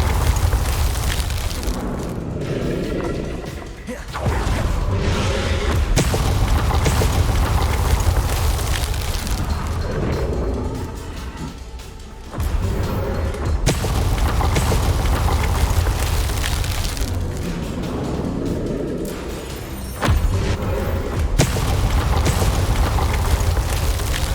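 Bombarda spell blasts in the video game Hogwarts Legacy, heavy booming explosions that roll into crackling, rumbling debris and fire noise, repeating several times over a loud, dense battle soundscape.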